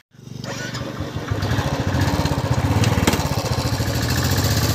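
A motorcycle engine at a picnic spot catches and settles into a loud, close, throbbing run, its pulsing rhythm growing slightly stronger and continuing without a break.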